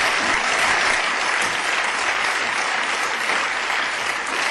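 Sustained applause fills a regional parliament chamber, many hands clapping densely and evenly for several seconds, loud and close with no voices over it.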